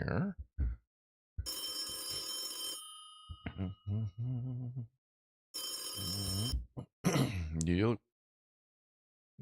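A telephone rings in a home setting, sounding in two long bursts of ringing separated by a brief pause, with a voice speaking between and after the rings.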